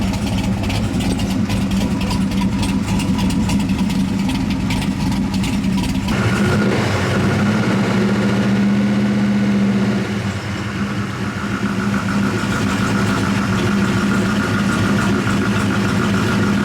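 A 1976 C3 Corvette engine idling steadily at near-normal temperature, a continuous low rumble with a shift in tone partway through and no talking.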